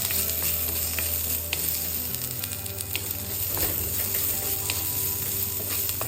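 Diced onions fry in a pan, giving a continuous soft sizzle and crackle with occasional clicks of mixing, fairly quiet and steady with a low hum underneath.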